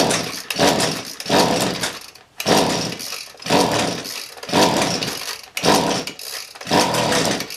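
An Echo SRM-265S string trimmer's small two-stroke engine revs up to full throttle in repeated bursts, roughly six loud, close whining pulls, each dropping back between them.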